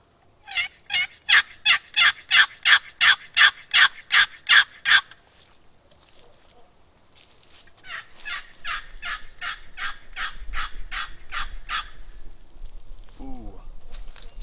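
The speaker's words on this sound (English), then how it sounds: "the box call that I'm going to be running is the Lady Love from Cluck" Cluck Lady Love wooden turkey box call, freshly chalked, scraped in a rapid run of loud, raspy yelps, then a second softer, faster series, with faint rustling and a brief voice at the end.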